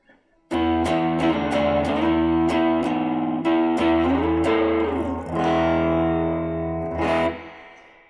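Electric guitar through the red channel of an Earthquaker Devices Gray Channel overdrive pedal: a run of loud, crunchy chords strummed one after another, with sustained ringing notes, played alone and close, fading out at the end.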